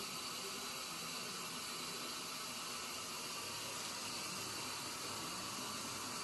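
Steady fizzing hiss of bubbles, soft and continuous, as lemon powder dissolves in liquid, with no voices.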